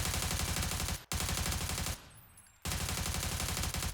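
Automatic rifle sprayed at a target square in PUBG, two long bursts of rapid, evenly spaced gunshots, loud and close, split by a brief gap and a quieter pause, no talk.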